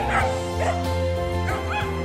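A dog wearing an anti-bark collar lets out several close, loud barks and yips in quick succession, with whimpering, tonal edges between the bursts.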